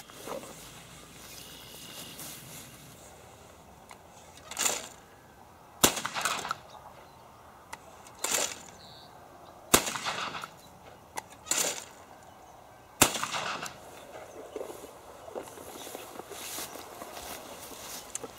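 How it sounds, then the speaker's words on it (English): A Weatherby Element 12 gauge autoloader shotgun fires 1 ounce loads outdoors, with several sharp reports spaced a few seconds apart over a quiet background. "And let's take a few shots and see what happens."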